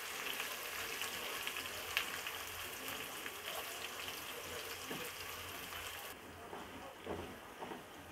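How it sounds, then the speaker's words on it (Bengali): Chopped onions frying lightly in oil for beef shahi rezala, a faint continuous sizzle and crackle with a few soft pops; the sizzle drops quieter partway through. "পেঁয়াজ কুচিকে হালকা ভেজে নিব।"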